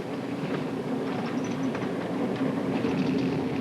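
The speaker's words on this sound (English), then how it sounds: "we're going around the sharpest curve on this line of railroad" Steady rumbling train noise with faint metallic squeals as the train rounds a sharp 8-degree curve on the Fort Dodge Line, continuous and close, no voices.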